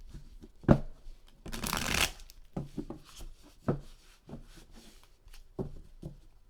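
Tarot cards are shuffled by hand in a few quick riffling bursts and soft slaps, close and clear, with one longer riffle in the middle and short pauses between.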